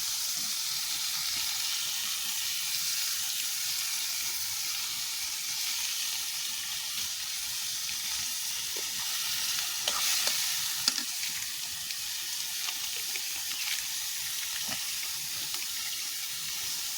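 Ginger garlic paste frying in a pan, a steady hissing sizzle that carries on throughout with occasional stirring scrapes and a few light knocks, no voices.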